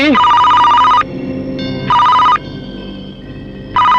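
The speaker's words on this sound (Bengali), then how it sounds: "তোর বাপের ফোন আইছে" A telephone bell rings loud and close in three separate bursts, with short pauses between them.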